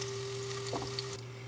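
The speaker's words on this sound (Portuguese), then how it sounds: "O bacon já está começando a dourar e eu vou adicionar e fritar junto um gomo de calabresa." Bacon and calabresa sausage frying together in a pan, a quiet, steady sizzle with a brief stir or spatter near the middle, no talking.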